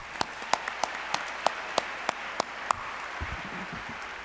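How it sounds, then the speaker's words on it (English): An audience at an MLK tribute celebration claps after a ballet performance. About a dozen crisp, separate handclaps ring out, fairly faint and sparse, then thin out to quiet. "Let's give Story Tapestries and Akamandoba Ballet another round of applause."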